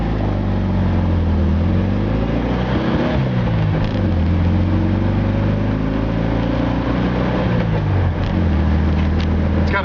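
A 1976 VW Super Beetle convertible with a 4-speed manual being driven: its engine drones steadily and close, with pitch rising and falling through acceleration and shifts, and no talking.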